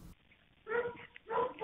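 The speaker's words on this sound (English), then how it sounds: "In some parts, you can clearly hear the dogs in the background" Dogs barking in the background of a 911 call, two short bursts of yips and barks heard through a thin phone line, moderately loud against a quiet hiss.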